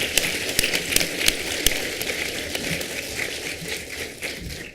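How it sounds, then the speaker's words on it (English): Applause from the audience at a quiz finals event, a moderate, steady patter of many hands with a few sharper claps standing out near the start, fading slightly toward the end. "So a big round of applause for Per."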